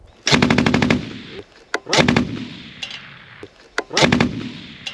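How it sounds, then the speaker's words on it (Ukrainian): Three loud bursts of rapid automatic gunfire from a weapon on a ground drone, each about half a second, spaced roughly evenly apart with quieter metallic clicks between them. "Постріл по білій машині"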